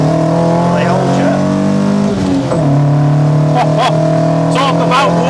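Ford Escort Mk1 with a modern engine swap, its loud, droning roar heard from inside the cabin as revs rise and shift, with occupants talking over it.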